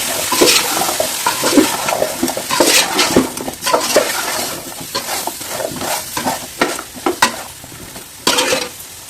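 Vegetables with turmeric and chili powder for a drumstick-leaf toor dal sambar are stirred and cooked in a pan, giving loud, close, irregular scraping and sizzling bursts with no talk.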